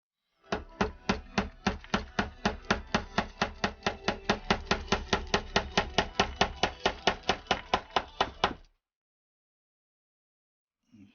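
Rapid, steady hammer blows while building a wooden HMS Bounty model ship, about thirty sharp strikes in a regular rhythm, close and loud, ending abruptly into silence.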